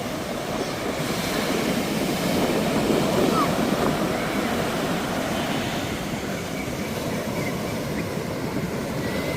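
Sea waves breaking on Kootayi Beach, a continuous roaring wash of surf mixed with wind rumble, steady and loud throughout.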